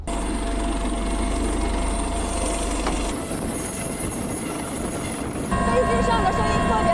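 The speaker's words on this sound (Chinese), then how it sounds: "那在我身后的就是直9反潜直升机" Z-9 anti-submarine helicopter aboard the Type 055 destroyer Nanchang, a loud continuous turbine whine and rotor drone with deep low rumble that shifts in character partway through, while a person talks over it.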